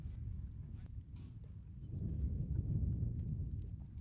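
Horses ridden into a team roping arena: muffled hoofbeats clip-clopping on dirt, low and fairly distant, under a steady rumble of crowd and announcer talk.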